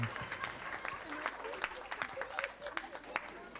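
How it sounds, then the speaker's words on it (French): Concert audience applauding at a gospel concert in a church, a dense crowd of clapping hands with bursts of voices mixed in, steady and moderately distant. "Je suis conscient que vous applaudissez parce que vous voulez vous asseoir"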